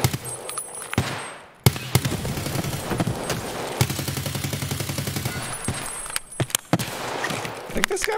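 Automatic rifle fire in the shooter game Escape From Tarkov, sustained rapid bursts of gunshots with brief pauses, loud and close throughout, with talking mixed in underneath.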